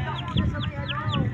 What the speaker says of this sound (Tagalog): Ay, ang gaganda ng manok, oh.